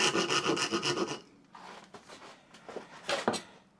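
Chisel paring waste from a wooden dovetail, a steady rasping scrape for about a second, then a few short, separate nibbling cuts and scrapes close by.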